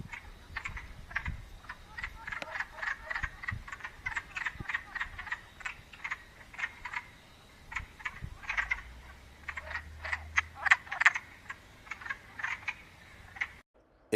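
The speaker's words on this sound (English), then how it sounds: "I think their call sounds a bit like a sick duck quacking." Male wood frogs calling to attract females, a dense chorus of rapid, raspy duck-like clucks repeating steadily at moderate loudness, with a faint low rumble underneath and no talking.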